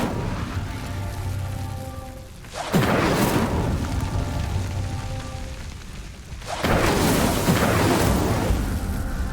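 Fire spell cast in the Hogwarts Legacy video game, igniting pyres: two loud whooshing bursts of flame flare up over a steady ambient bed, each swelling and then crackling on, with no speech.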